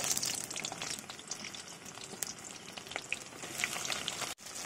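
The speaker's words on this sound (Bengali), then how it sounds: "কড়াইতে দিয়ে দেবো পেঁয়াজ।" Onions dropped into hot oil with bay leaves in a wok, giving a dense, steady close-up sizzle with scattered crackles and pops, fairly quiet overall, no voices.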